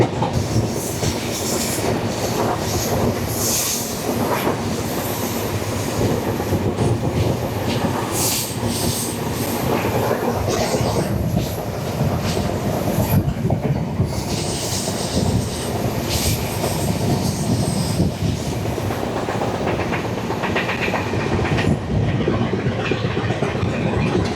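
Kaziranga Express rolling from Kolkata toward Guwahati, a steady loud onboard rumble of carriages with rhythmic wheel clatter and occasional squeal throughout, no voices.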